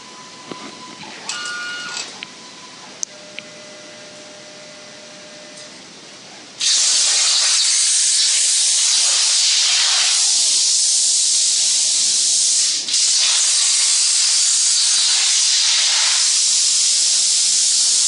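A CNC plasma torch cuts metal: a quieter stretch of machine whine and faint beeps gives way to a loud, steady, close hiss that runs to the end, with one brief dip partway through.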